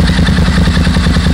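A Suzuki Marauder motorcycle engine runs loud and close after its carburetor screws are adjusted, idling with a rapid, uneven popping and clattering pulse.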